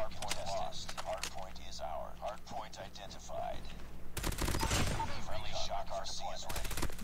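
Gunfire in Call of Duty Mobile, with rapid bursts of automatic shots crackling loudly near the end, while a player talks excitedly through the quieter stretch before.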